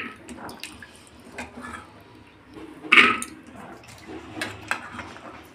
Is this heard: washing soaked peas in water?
yes